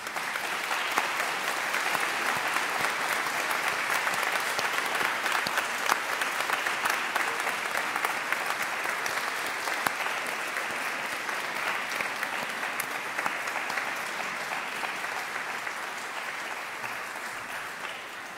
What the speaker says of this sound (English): Graduating students, please stand, and a round of applause